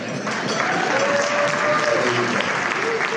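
A room of guests at a community leaders breakfast claps for the university president, steady dense applause sustained throughout with a faint tonal line and some voices murmuring underneath.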